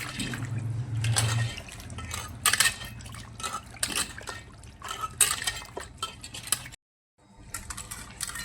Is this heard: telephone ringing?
no